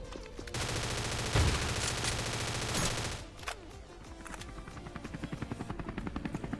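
A helicopter in the Scarfall 2.0 mobile shooter on the Mumbai map drones loudly with a thick rotor roar mixed with bursts of gunfire, then fades to a quieter, rhythmic rotor chop.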